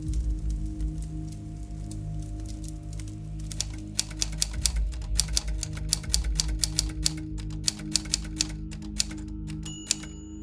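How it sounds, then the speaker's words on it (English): Typewriter keys clack in irregular bursts over a low steady hum, with sharper strikes scattered through the second half. "I'm typing as fast as I can"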